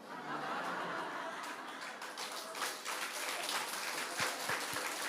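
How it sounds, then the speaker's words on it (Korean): Applause from a congregation at a prayer meeting, a dense, steady wash of many hands clapping for the full length, with scattered chuckles and a few sharp taps near the end. "박수를 쳐주고 커피 얻어 먹어야지요."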